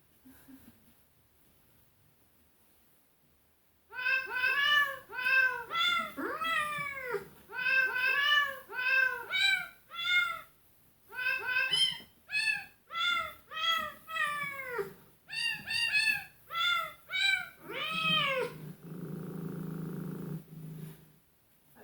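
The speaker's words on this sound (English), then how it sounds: "get the cat to sing happy birthday" A cat's meows strung together into a sing-song Happy Birthday tune, many short rising-falling meows in quick rhythmic bursts, close and clear, ending with a low rumble.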